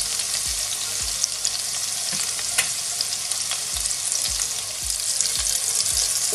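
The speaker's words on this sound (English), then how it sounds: "So as you can see, the garlic is getting golden brown now." Garlic sizzles steadily in a pan over high heat for a Bengali fish curry, a dense bright hiss with soft low thumps of stirring recurring through the whole stretch, close and loud with no one talking.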